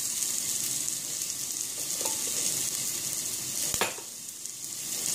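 Onions sautéing in oil in a pan, a continuous close sizzle with soft stirring, and a sharp utensil knock on the pan near the end.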